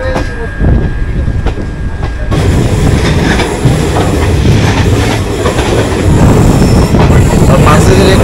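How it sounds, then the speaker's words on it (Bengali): An Intercity Express train at Azimganj Junction rumbles loudly and continuously nearby, its wheels clattering over the rails with occasional screeching. "আজিমগঞ্জ জংশনে 2 মিনিটের হল্ট ছিল ইন্টারসিটি এক্সপ্রেসের।"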